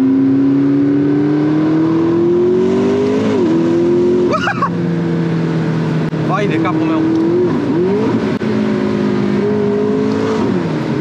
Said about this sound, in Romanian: motorul nu are cel mai fain sunet de pe pământul ăsta, dar măcar îl auzi aici, în spatele tău